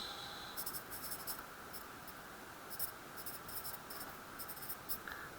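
Chemical ring structures are written out by hand, with quiet, close bursts of pen-on-paper scratching in short irregular strokes over a faint steady hum.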